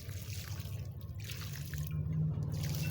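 Water tipped from a bucket into containers, a steady splashing trickle running throughout over a low, constant hum, growing slightly louder toward the end.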